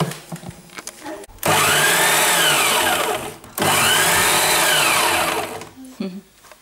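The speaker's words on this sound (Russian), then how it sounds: "Орехи прожаренные у нас. Сейчас будем их молоть." Roasted nuts being ground in an electric grinder: two loud, steady motor whirrs of about two seconds each, separated by a brief pause, with quieter household sounds before and after.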